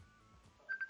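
A short electronic phone tone sounds three times in quick succession near the end, clear and close, after a stretch of quiet low background.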